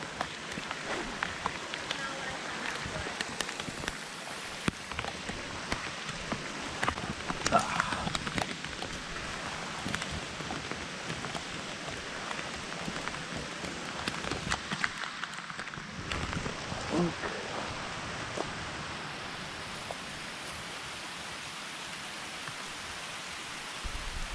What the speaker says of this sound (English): rain's getting a little heavy there